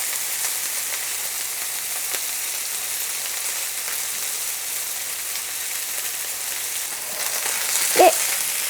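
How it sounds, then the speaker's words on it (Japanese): Bacon and mushrooms frying in a pan for a mushroom sauté, a steady even sizzle with a soft crackle throughout and a brief louder pop near the end, no talking. "ベーコンを入れてさっと炒めるっていう感じです。"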